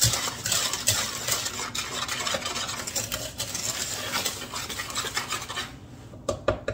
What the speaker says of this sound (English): I'm going to whisk these up